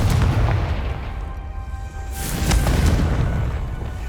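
A Confringo fire spell bursts in Hogwarts Legacy, giving a loud blast with a rumbling low-end boom that swells again after a brief dip, heard alone without talk.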